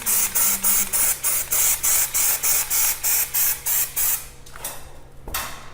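Sealing paint sprayed from an aerosol can over a water stain on a ceiling, about a dozen short, loud hissing bursts in steady rhythm, then a few fainter scattered sprays and quiet rustling.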